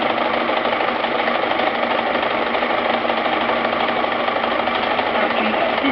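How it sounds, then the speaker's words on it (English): Brother XL 2030 sewing machine winding thread onto its bobbin, a steady continuous motor whir held at an even, fairly loud level with no pauses. "depress the foot controller to wind the thread. The machine stops automatically when the bobbin is full."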